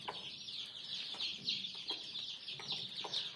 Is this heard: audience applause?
no